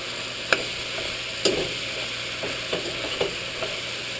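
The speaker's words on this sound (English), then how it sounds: "Let's stir that for just a minute here" Ground beef fries in a pan with a low, constant sizzle, and a utensil stirs it in irregular scraping knocks, close up and with no talking.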